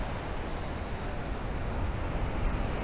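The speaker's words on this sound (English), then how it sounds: "Waves are pretty good." Ocean waves break on a beach near a campground, producing a soft, steady rush of surf with a faint wind-like hiss and no distinct individual breakers.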